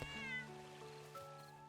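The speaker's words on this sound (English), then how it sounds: "I haven't seen you in a while, kitty." A cat in the Little Witch in the Woods video game gives a single soft, drawn-out meow, quiet and clear with no talking over it.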